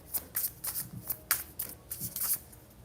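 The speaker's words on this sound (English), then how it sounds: "as I shuffle and look at the bottom of the deck" A deck of tarot cards is shuffled by hand, giving repeated crisp riffling bursts in an uneven rhythm, close and clear with no talking.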